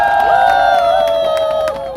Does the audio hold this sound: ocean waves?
no